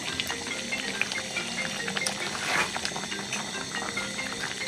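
Meat is stirred and braised in a large pan of spices for a post-Eid meal, giving a steady close sizzle and bubbling hiss with soft scraping, and no voices.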